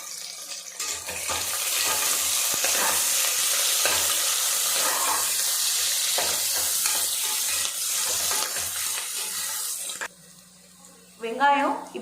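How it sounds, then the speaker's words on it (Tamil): Chopped onions, added with a bunch of mint, sizzle loudly in a pan while being stirred for about ten seconds, then the frying quiets and a voice speaks. "அதுக்கப்புறம் நறுக்கி வச்சுட்ட வெங்காயம் போட்டுக்கலாம்."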